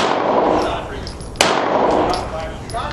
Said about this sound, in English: She's shooting a 1911.